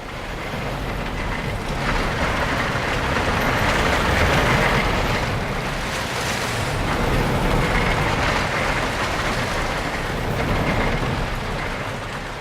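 A roller coaster ride in the video game Planet Coaster rolls on with a continuous loud rumbling roar, swelling and easing slightly over the ride, with no voices.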